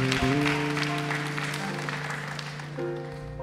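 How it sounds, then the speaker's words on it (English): A Zion Baptist Church congregation claps in praise during a Sunday service, steady applause running under sustained organ-like chords that shift partway through. "Give a hand clap of praise for that."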